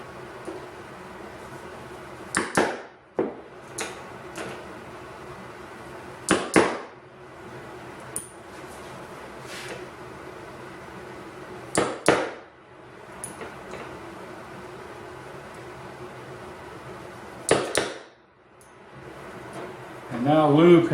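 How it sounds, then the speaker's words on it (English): A self-centering punch marks hinge screw holes in Shaker-style cabinet doors, giving a handful of sharp, close clicks and knocks spread out unevenly, with quieter handling noise between them. "self-centering punch"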